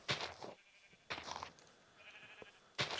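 Three short, quiet bleats from a Minecraft sheep, spaced about a second apart with near silence between them.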